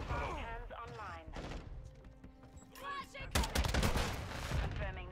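Gunfire from an LMG in the video game Call of Duty Modern Warfare 2, with sharp shots and bursts among game voices and clatter, ending in a loud rapid volley.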